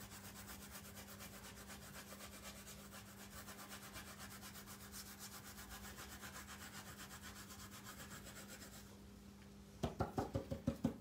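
A dry paintbrush rubs gilding flakes onto an art journal page in quick, faint, repetitive scratchy strokes, ending in a burst of louder brushing taps.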